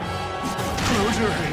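A shatter attack smash from the Metaphor: ReFantazio video game, a dense, loud crashing impact that swells and sustains for over a second amid battle effects, with a voice briefly overlapping.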